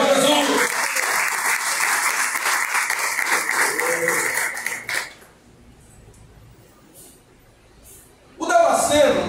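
A church congregation at an apostolic seminary applauds loudly for about five seconds, then the hall drops to a quiet murmur before another loud burst of clapping returns at the end.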